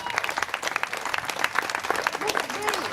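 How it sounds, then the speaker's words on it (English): Audience applause at a mayoral campaign event with a live band, dense clapping throughout from a moderately distant crowd, with a little talk mixed in. "Christine, give us a round of applause, lady."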